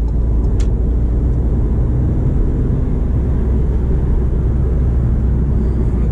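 Ford EcoSport, a 2019 all-wheel-drive model, cruising steadily in fifth gear, with a constant low road and engine rumble filling the cabin from start to finish and no talking.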